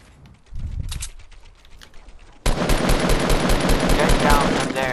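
Gunfire in the video game Fortnite: a few sparse shots and clicks, then a dense rapid burst of repeated shots at close range, loud and sustained to the end.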